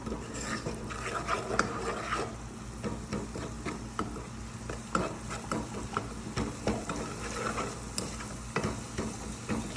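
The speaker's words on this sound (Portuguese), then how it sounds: "E aí a gente vai misturar aqui um pouco, de forma que esse alho venha dourar" Garlic sizzles in a pan while it is stirred for chicken pasta, giving a quiet continuous frying hiss broken by frequent soft scrapes and clicks of the utensil.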